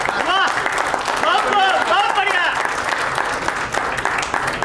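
Audience applause at an Akhil Bharatiya Marwari Yuva Manch poetry event follows a poem recitation, a steady, dense clapping wash lasting several seconds with a voice speaking over it.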